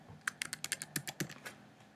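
A password is typed on a computer keyboard in a quick run of about a dozen crisp keystrokes, close and fairly quiet, with no talking.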